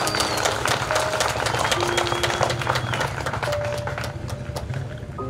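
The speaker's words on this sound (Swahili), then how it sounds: "Makofi kwenu." An audience at a craftsmen's association launch and awards ceremony in Kahama claps steadily and densely, with the applause sustained throughout at close range.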